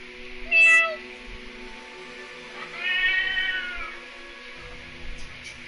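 Two recorded cat meows played back through an Amazon Alexa smart speaker, a short clear meow near the start and a longer drawn-out one a couple of seconds later, separated by quiet room tone.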